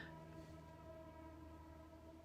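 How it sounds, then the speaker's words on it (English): A distant train horn holds one steady, sustained chord throughout, faint and unbroken, with no pauses or other sounds over it. "Did you hear how long that train horn is?"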